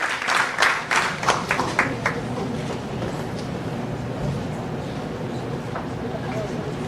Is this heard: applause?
yes